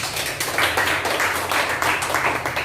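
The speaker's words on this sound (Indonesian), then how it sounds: "Mari kita tepuk tangan." An audience claps hands at a public gathering on new-normal rules in Ende regency, a moderate scattered patter of claps rising and falling over a low background rumble.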